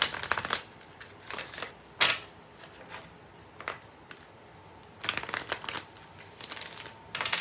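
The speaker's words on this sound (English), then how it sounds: "So let's pull a few more cards and see a little bit more about the energy of this week." Tarot cards being shuffled and pulled from a deck, close up, with brisk riffling bursts at irregular intervals separated by quieter handling and soft card slides, no talk.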